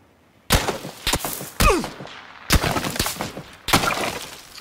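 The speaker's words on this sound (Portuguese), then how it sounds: "Caraca, quem tá me atirando da onde?" Five sharp gunshots crack out one by one in PUBG Battlegrounds, each loud and followed by a short ringing echo, with brief gaps between them.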